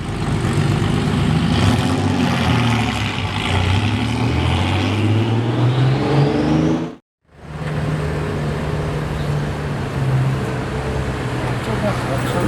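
A heavily MSO-modified McLaren 720 engine roars loudly, its pitch rising as it revs, cuts out abruptly for a moment, then resumes with a steady drone.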